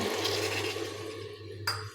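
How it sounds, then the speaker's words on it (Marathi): Half a bowl of water poured from a small bowl into bottle gourd curry with coated spices in a pressure cooker: a steady close splashing pour lasting over a second, ending with a short clatter, over a low hum. "इथे मी वाटीमध्ये अर्धी वाटी पाणी घेतलेलं आहे ते याच्यामध्ये टाकणार आहे"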